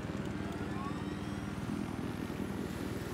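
A helicopter in the video game Battlefield 4 on the Silk Road multiplayer map drones steadily with a low, rapid rotor throb and engine hum, constant and fairly loud throughout, with no talking.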